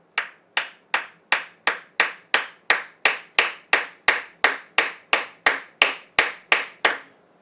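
A seized crankshaft on an antique Briggs engine held in a vise takes about eighteen evenly spaced, sharp hammer blows, each a loud metallic crack that quickly decays, steady and close.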